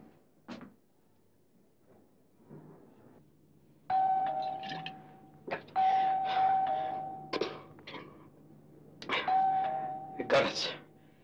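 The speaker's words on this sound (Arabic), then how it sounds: "جرس." A doorbell in a home scene from an Egyptian feature film rings in several clear, steady tones in short bursts, with voices and movement noise around it.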